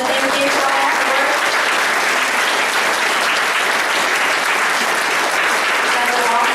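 A congregation at a coming-of-age service gives teachers a loud, sustained round of applause, dense even clapping filling the room throughout with no break.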